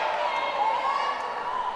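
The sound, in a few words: crowd cheering at indoor court game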